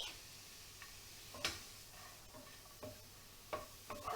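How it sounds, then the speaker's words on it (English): Mushrooms fry in butter in a frying pan while being stirred, a soft steady sizzle under a few sharp scrapes and clicks of the utensil against the pan, close up and fairly quiet. "pick up the mushrooms and put them in the frying pan. So I'm going to wilt down these babies first."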